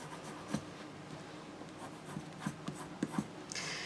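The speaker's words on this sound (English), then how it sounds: "Then I'm going to take my point turner and really burnish this." A point turner burnishing a folded fabric strap for a pouch's side D-ring connector: a steady, dry rubbing and scraping, close up, with several sharper strokes, then a brief brighter hiss at the end, with no talking.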